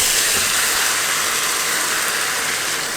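Stock liquid poured into hot rice in a pan gives a loud, steady, broadband hiss and sizzle that carries on without a break for a few seconds.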